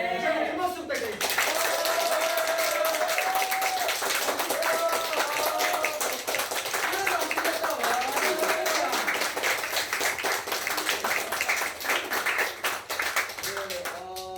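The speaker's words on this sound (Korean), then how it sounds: "다시 한번 큰 박수 부탁드립니다." Sustained applause from a theatre audience after a performance, a dense patter of many hands clapping continuously, with a voice and some music faintly underneath.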